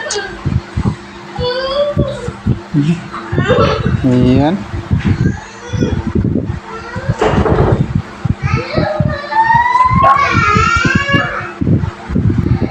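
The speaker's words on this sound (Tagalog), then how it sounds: "May mga maingay na bata na naglalaro." Noisy children playing and chattering nearby, with high shrieks, squeals and babbling in a steady lively stream, mixed with adult talk close by during a home aircon installation.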